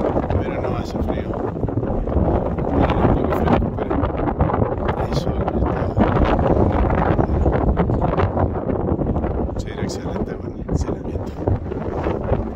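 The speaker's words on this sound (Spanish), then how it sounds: "Un día muy ventoso hoy," Strong wind on the Cuesta del Obispo mountain road in Salta, Argentina, buffets the microphone in a constant rumbling roar, with faint voices half-buried beneath the gusts.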